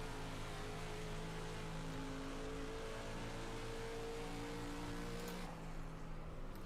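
Race car engine droning steadily in an iRacing dirt race at Knoxville on a final qualifying lap, a continuous buzzing drone with harmonic tones, fairly distant, easing off near the end.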